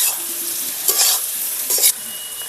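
Jackfruit and potato pieces are stir-fried in a pan for a jackfruit-and-crab-style curry, giving a steady close sizzle broken by two brief scraping stirs.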